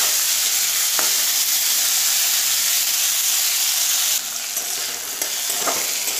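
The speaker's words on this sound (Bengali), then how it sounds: "এবার আমি বরবটিগুলোকেও ভালো করে ভেজে নেব" Yardlong beans frying in oil in a wok, a steady loud sizzle with occasional stirring scrapes, continuous throughout with no talking.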